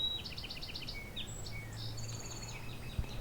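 Several song sparrows sing along a rail trail, their bright trilled phrases repeating in quick bursts at moderate distance over a steady low outdoor hum, with other birds chirping faintly.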